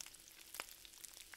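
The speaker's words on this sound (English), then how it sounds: "you know we did it right because you can hear the sizzle right now" Faint, steady sizzling and crackling of fried rice in oil in a pan, with tiny pops scattered throughout.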